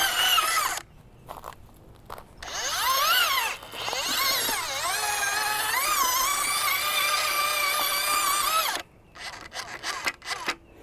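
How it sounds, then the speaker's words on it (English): A power drill turning a 1-gallon auger bit into garden soil among perennials, a loud steady whine rising and falling in pitch with gritty crunching, stopping briefly several times before a long continuous run. "I'm using my 1 gallon drill bit today"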